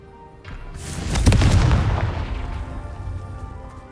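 A Confringo fire spell bursts in the Hogwarts Legacy video game, a loud booming explosion that swells quickly and rumbles off with a long decaying roar, heard alone.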